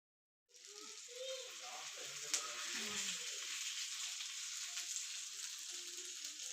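Paarai fish frying in hot oil in a wok sets off a sudden loud sizzle that stays steady and crackling, with faint voices and clinks beneath.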